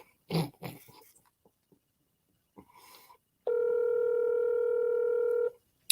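A telephone dial tone sounds while a call is being placed. It is preceded by a few brief muffled sounds, then the loud, steady, unbroken tone holds for about two seconds before stopping.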